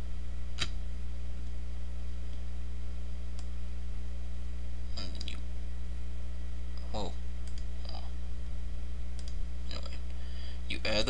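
A computer mouse clicks sharply a handful of times at irregular intervals, close and crisp over a constant loud electrical hum, with no talk.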